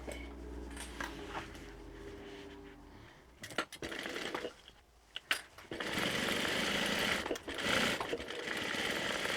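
A sewing machine stitches the seam of a tote bag in bursts, a low mechanical whir starting and stopping with handling clatter between runs, then a longer steady stretch of stitching, close by with no talking.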